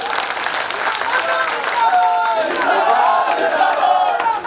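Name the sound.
crowd applauding at political rally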